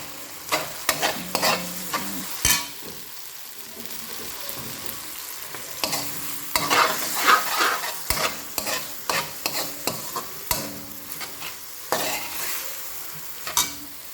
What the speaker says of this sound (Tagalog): Nilagay ko na ang chicken feet.